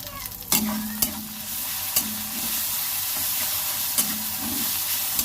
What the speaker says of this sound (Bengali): রসুনগুলো 2 মিনিট ভেজে নেব।